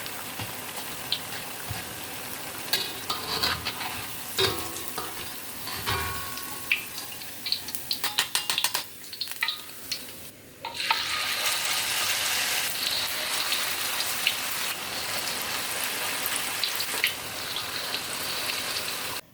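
Noodle fritters (bakwan mie) sizzle and crackle in hot frying oil, a steady dense hiss with scattered pops and clatters. It grows louder and fuller partway through, with no talking.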